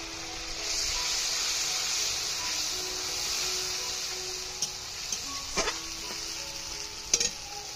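Winter vegetables frying for shukto in a home kitchen, with poppy seed paste added: a soft, steady sizzle followed by a few sharp clinks and taps of a utensil near the end, and no talking.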